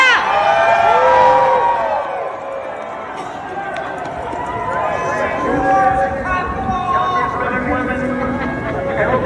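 A large crowd at an outdoor Trump rally cheers and shouts, a loud continuous roar with whoops and voices rising and falling throughout.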